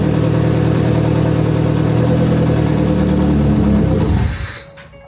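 Mazda MX-5 drift car engine idling loud and close with a steady rumble, then switched off, the sound dying away over the last second into quiet.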